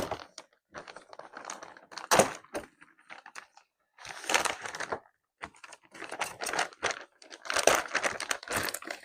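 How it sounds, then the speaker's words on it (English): A plastic parts bag for car mods is torn open and rummaged, giving close bursts of crinkling and rustling plastic in uneven clusters separated by short pauses. "why don't we go ahead and open up what's in each individual bag"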